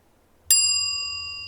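A single bright bell ding strikes once, clean and close, its metallic tone ringing on and slowly fading through the rest of the moment with no talk.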